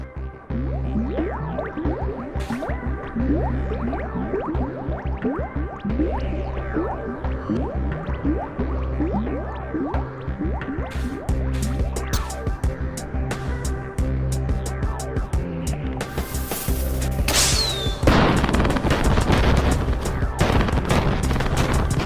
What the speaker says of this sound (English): This is definitely my favorite firework